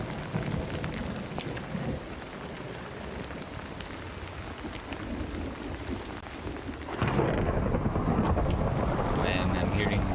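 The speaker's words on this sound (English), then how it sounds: "I'm hearing thunder sounds" Rain and thunder in a modded Minecraft game, a steady patter with low rumbles that swells into a heavier, louder downpour partway through, with a person talking quietly underneath.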